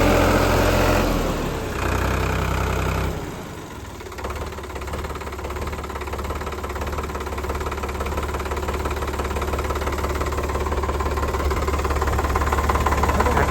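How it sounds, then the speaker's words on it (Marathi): A tractor engine idles steadily close by, a low throbbing drone with a knocking mechanical pulse that holds for the whole stretch after a brief dip early on; no voices. "आता ट्रॅक्टर चालू केलाय"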